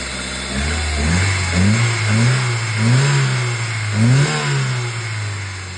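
An Opel Vectra A 1.6 petrol engine revving up and down in a series of repeated throttle blips over idle, loud and close, with no talking.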